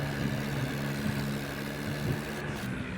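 A heavily loaded tractor runs with a steady, low engine drone that continues unbroken at moderate loudness, with no talk.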